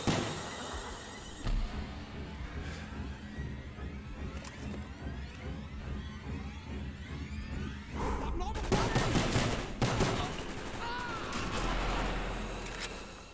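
Dense bursts of automatic gunfire and explosions fill a Black Ops 1 video game firefight, crackling almost without pause. A louder, harsher barrage sets in partway through over a steady rumbling bed.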